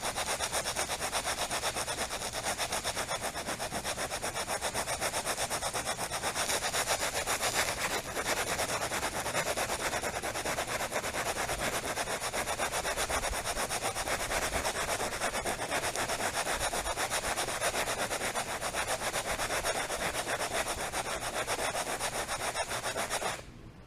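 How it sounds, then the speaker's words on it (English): A goatskin leather glove is pressed hard and rubbed on a coarse driveway, making a continuous loud, rasping scrape like sawing that runs steadily for over twenty seconds before stopping abruptly. "My driveway is pretty coarse, so we're just gonna start rubbing for a bit and see what happens."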